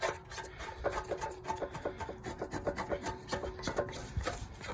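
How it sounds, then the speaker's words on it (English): Old black paint is scraped off a metal headlight bucket from a 1969 Mustang, a close, rhythmic rasping of repeated strokes that continues without pause and without talk. "the layer of black paint that was on here, that, look at that, that just like scrapes off"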